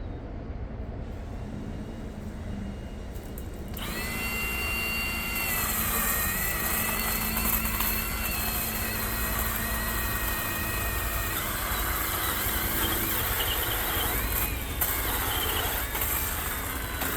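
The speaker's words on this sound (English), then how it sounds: "I know that it's too large for this little bitty baby chainsaw" A very small chainsaw running for an extended stretch in a yard, starting low and then revving up into a sustained high-pitched whine that wavers in pitch as it cuts into wood too large for it.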